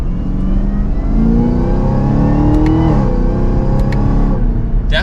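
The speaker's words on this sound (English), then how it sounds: "You can hear that supercharger whine, which is really nice." A 2024 Chevrolet Camaro ZL1 pulls hard in second gear, its supercharged engine roaring loudly and rising in pitch, with a whine riding above the exhaust and a brief shift dip midway.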